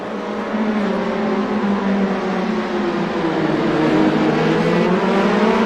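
Several race cars run through the S-curves at VIR, some side by side on cold tires, a steady loud engine drone with shifting harmonics that stays close and continuous throughout, no voices.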